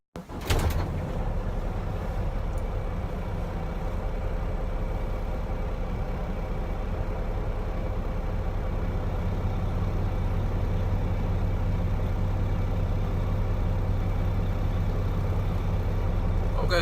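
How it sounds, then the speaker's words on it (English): A truck engine idles in neutral, heard from inside the closed cab, as a steady low rumble and hum that runs unchanged throughout, after a brief knock at the start. "this is what it sounds like when the truck is in neutral."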